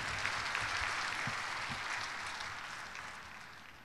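Sustained audience applause at an anniversary ceremony, a dense steady wash of clapping from a large crowd that gradually tapers off.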